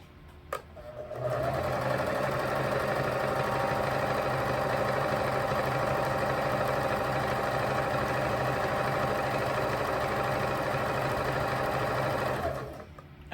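A sewing machine runs steadily, stitching a straight line of fabric for an apron, its even mechanical whir sustained for about eleven seconds close to the microphone before stopping.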